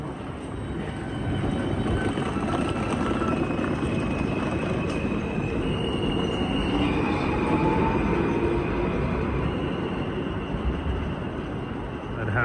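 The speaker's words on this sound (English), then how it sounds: "So here we have a Bluebird set heading for Jamaica Center." A New York subway E train, a Bluebird set with Alstom propulsion bound for Jamaica Center, rumbles steadily through the cavernous Jamaica-Van Wyck station, loud and sustained with a faint whine of motors over the roar.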